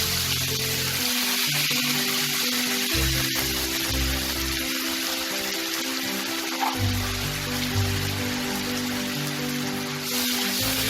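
A paste of ginger and four green chilies sizzles loudly and steadily in hot oil, a dense crackling hiss close by that never lets up.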